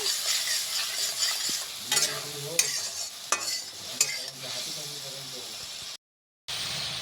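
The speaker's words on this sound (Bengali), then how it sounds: "নাড়াচাড়া করে মশলাটা ভাজে নেব।" A spice paste is stirred and fried in hot oil for aloo chop, sizzling and hissing close up. Repeated scraping strokes come and go, and the sound cuts to a brief silence near the end before resuming.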